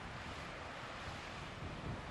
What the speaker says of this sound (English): a bit of a waterfall. Running water in Arizona.